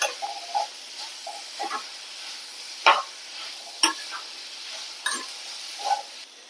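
Ridge gourd and chopped tomato sauté in a pan, a low steady sizzle under intermittent utensil scrapes and a few sharp metallic clinks, close and fairly quiet, with no talking.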